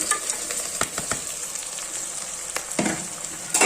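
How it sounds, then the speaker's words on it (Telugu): Goat head meat pieces frying in ginger garlic paste, a loud close crackling sizzle with sharp spits and stirring scrapes throughout, no voices. "ఇప్పుడు దీంట్లో ఈ తలకాయ కూర ముక్కలు వేసేద్దాం."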